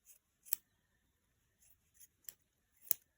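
A few quick, crisp scissor snips trimming yarn for tassels sound close up, spaced irregularly against near silence.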